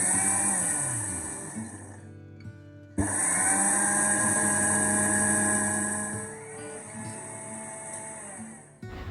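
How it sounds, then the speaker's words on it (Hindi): An electric mixer grinder pulverising roasted white cumin mixed with a little black cumin into powder: a loud, steady motor whine that cuts off briefly, restarts and runs on, dropping in pitch near the end. "फिर बाद में 1 पे मैं इसको ग्राइंड कर लेती हूँ"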